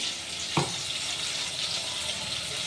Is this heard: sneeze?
no